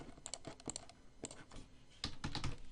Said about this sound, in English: Sorry about that weird slamming the keyboard, Phillip.